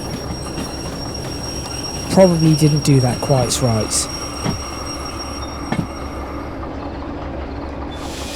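In the Derail Valley railway simulator, a train brakes and its wheels squeal in rising and falling tones over a steady rolling rumble, followed by a few clanks. Someone talks quietly over it.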